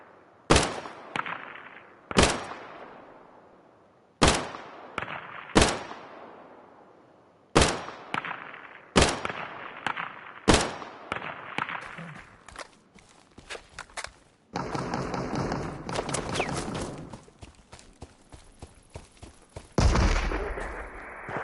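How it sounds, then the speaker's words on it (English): A turret being destroyed in the shooter game Deadside: a series of sharp, loud gunshots spaced a second or two apart, each ringing off, then a dense sustained roar of blasts and debris, and a final heavy burst. "Is that the turret blowing up?"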